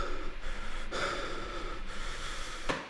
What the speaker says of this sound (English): we've got some heavy breathing